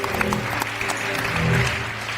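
Studio audience applauding on a Turkish TV talk show, a steady wash of clapping that fills the whole moment at even loudness.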